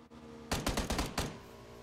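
Gunfire in an online battle royale duo match, a quick burst of five or six sharp, loud shots fired in rapid succession, then fading into quieter ambience.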